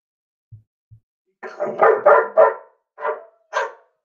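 A dog barks several times in quick succession at close range, preceded by two soft low thumps and followed by two more separate barks, with no talking over it.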